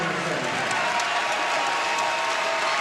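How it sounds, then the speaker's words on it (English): Partisan Arizona basketball arena crowd applauding a player as he heads to the bench, a broad steady wash of clapping and crowd noise filling the space, with a commentator talking over it. "the partisan Arizona crowd applauding Anderson as he heads to the bench"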